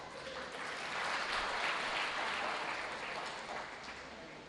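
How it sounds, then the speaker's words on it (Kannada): Audience applause fills a bank's annual general body meeting in Tumkur, a steady, dense wash of many hands clapping that swells slightly in the middle and tapers off toward the end. "ಯಾಕೋ ಚಪ್ಪಾಳೆ ಸಾಲ್ತಾ ಇಲ್ಲ."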